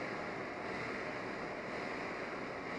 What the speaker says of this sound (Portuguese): Tá fervendo fraquinho ainda, mas já está fervendo.